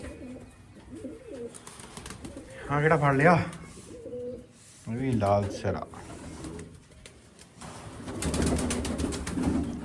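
Pigeons coo in soft, rolling phrases at close range in a loft, repeated several times, while people talk over and between the calls.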